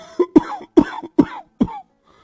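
An old man on a cot coughs in five sharp, close, loud bursts, evenly spaced, followed by a faint trailing breath.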